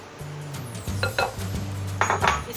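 Mango puree for a mango tapioca dessert scraped from a container into a bowl, with a few soft clinks of a spoon against dishes, close and quiet.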